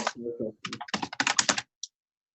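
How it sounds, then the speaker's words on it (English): Keyboard typing picked up by an open microphone on an online voice call: a quick run of clicky keystroke bursts over about a second and a half, mixed with a short stretch of voice, then a single isolated click. "Your typing is coming through your Oh microphone."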